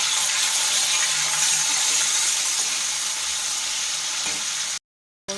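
Whole spices, ginger-chili paste and tomato fry for aloo dum, giving a loud, continuous close-up sizzle with a bright hiss that cuts off abruptly just before the end.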